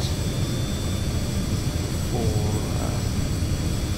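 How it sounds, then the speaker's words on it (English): A Carenado Citation CJ2 business jet's number 1 engine spools up in a Prepar3D flight simulator, a steady broadband whine and rumble holding level throughout, with a faint rising tone partway through. "right now we're going to start the number 1 engine"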